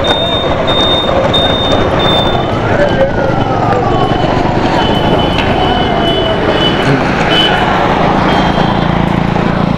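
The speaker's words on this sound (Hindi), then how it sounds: "एम्बुलेंस गई अभी यहाँ से एक" An ambulance siren rises and sweeps past at night amid loud, constant traffic rumble on an Indian national highway, with a steady high beeping tone and other road noise.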